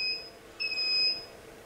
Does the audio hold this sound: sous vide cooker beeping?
yes